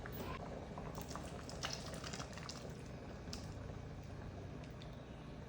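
A pot of coconut and curd curry on low heat gives a faint, steady bubbling simmer with scattered soft pops and drips.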